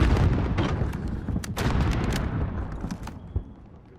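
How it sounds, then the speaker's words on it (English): Grenade launcher fire in the Warzone video game, dense booming blasts and rumbling explosions filling the clip at close range, fading slightly toward the end. "Grenade launcher."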